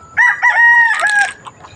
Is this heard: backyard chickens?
yes